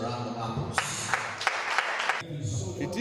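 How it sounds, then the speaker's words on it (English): Brief scattered applause at a book launch, a few sharp claps in a short burst that soon fades, mixed with talking voices. "I think it deserves a round of applause."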